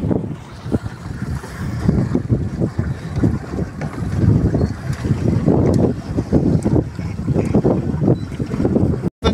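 A tourist boat on the lake at Trakai, Lithuania, heard as a loud steady rumble of engine and water under heavy wind buffeting, continuous throughout.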